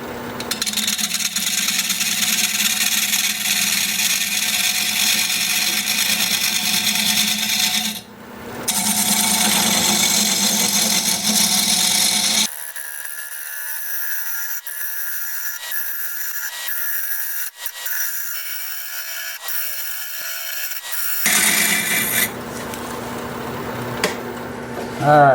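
A carbide hollowing tool cutting into a spinning wood burl on a lathe, a loud, continuous scraping and hissing with a brief pause, then a drop in tone and a rougher, rubbing cut.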